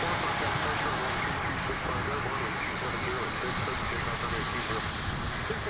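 A WestJet jet bound for Toronto rumbles in a dense, steady engine roar at takeoff power, loud and continuous, with voices talking underneath.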